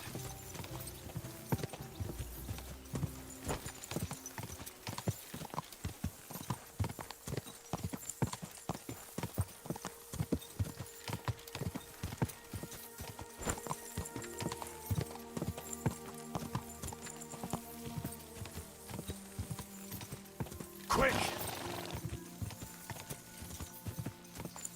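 Horse hooves clip-clop steadily on the ground in the Kingdom Come: Deliverance II video game, a continuous walking rhythm under ambient game sound, with a brief whinny-like burst near the end.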